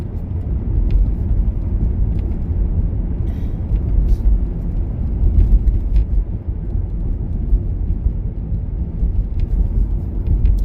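Road traffic drones steadily in a quiet Canadian town, a low broad rumble of a car passing close by on the street and holding at a fairly loud, even level throughout with no voices.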